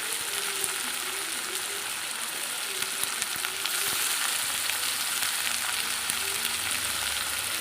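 Onions and curry leaves frying in oil for a spicy fish curry, a loud dense sizzle running steadily throughout with occasional light stirring.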